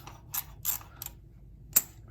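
Socket wrench ratcheting on the brake caliper bolts of a 2019 Kawasaki ZX-6R with Nissin brakes, a few short clicking bursts followed by a single sharp snap as a bolt breaks loose, close and fairly quiet.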